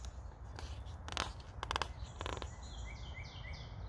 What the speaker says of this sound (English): You can hear some birds in my backyard.